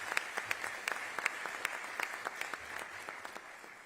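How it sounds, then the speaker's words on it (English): Scattered, fairly faint applause from a modest audience at a live press event greets the state's attorney, individual claps clearly distinct and irregular rather than a dense roar. "Let's give her a round of applause."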